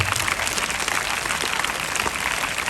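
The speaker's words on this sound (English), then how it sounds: "Give a big hand clap." A school audience applauds at a Children's Day event, with dense, steady clapping from many hands filling the space throughout, loud and continuous without any voices on top.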